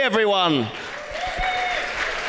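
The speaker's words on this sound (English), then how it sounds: "a big round of applause" A live choir show crowd at a resort on a Saturday night gives a warm round of applause to welcome a guest. A host's voice speaks briefly first, then dense clapping and crowd noise fill the room.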